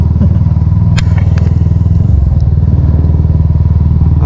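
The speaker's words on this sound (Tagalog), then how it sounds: "Saba gid akong tambutso guys." A motorcycle fitted with a loud aftermarket MBR1 muffler idles close by, giving a steady, heavy throbbing exhaust rumble throughout, with a few faint clicks on top.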